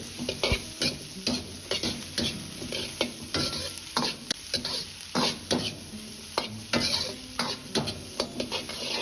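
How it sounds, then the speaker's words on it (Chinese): Side vegetables stir-fried in a wok with Sichuan peppercorns and dried chilies for dry-fried pork intestines, rapid rhythmic spatula scrapes and tosses over a constant hot sizzle, close and busy. "稍微翻炒几下，再倒入配菜翻炒，炒出香味。"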